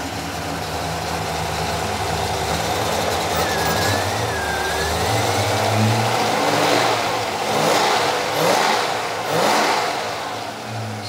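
A Rover V8 engine turns over and catches, then idles roughly and revs up in a few uneven, hesitant throttle blips, loud and close.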